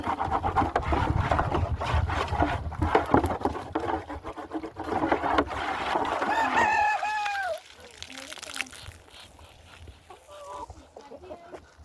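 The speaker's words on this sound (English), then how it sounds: "that chicken is really loud" Chickens cluck and a rooster crows close by, loud and busy, with scraping and rustling noises mixed in before the calls thin out.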